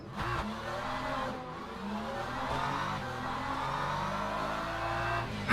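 Race cars in Le Mans Ultimate, including LMP2 prototypes, roar continuously with engines revving and shifting through gears, a steady loud game-engine drone that holds for several seconds with no talk.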